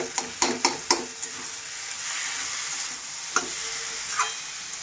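Tomato being fried and mashed in fish oil in a pan for an eggplant dish: a steady soft sizzle with several sharp scraping stirs early on and another near the end, close by, with no talking.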